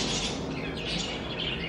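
Birds squawk and chirp over a dense, steady wash of outdoor noise, brief calls blending into the background with no talking.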